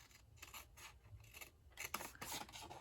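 Scissors snip through paper in a run of short, close cutting strokes while a Halloween treat bag is trimmed into shape, with a faint rustle between the cuts.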